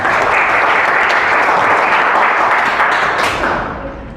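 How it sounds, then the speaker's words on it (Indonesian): Students in a classroom clap together in a loud, dense burst of applause that holds steady and then begins to fade near the end, with no talking over it. "beri tepuk tangan"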